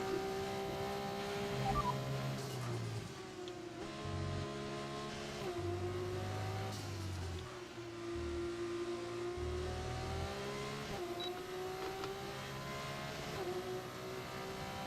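F2 race car engines in a racing video game at the Austrian round, revving up and down in repeated rising and falling sweeps, with shifting pitch and a continuous background roar, no talk.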